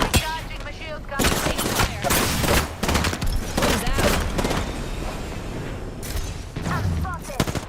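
Rapid bursts of automatic gunfire from an Apex Legends firefight, loud and dense with repeated volleys and brief pauses, while a player talks over the shooting.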